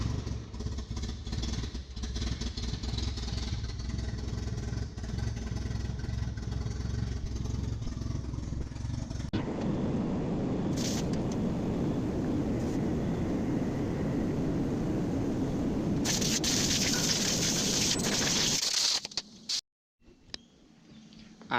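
A rotary forklift engine cranks and starts, then runs as a loud, steady rumble that shifts to a rougher, harder note partway through before cutting out near the end.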